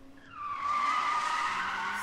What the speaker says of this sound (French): WD va sortir des buissons avec Bonnie, la mettre dans la voiture et sacrer le camp.